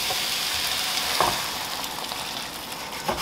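Escovitch sauce sizzles and crackles on sautéed vegetables in a pan with the heat just switched off, a dense steady hiss that stays close with no one speaking.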